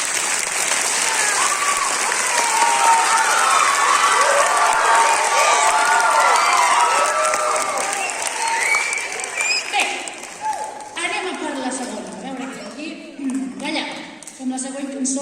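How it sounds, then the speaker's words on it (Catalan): A school Christmas concert audience in Valls claps loudly for the children, with dense applause and cheering for about ten seconds before it fades into scattered claps and a voice speaking. "Va, torneu a aplaudir més fort."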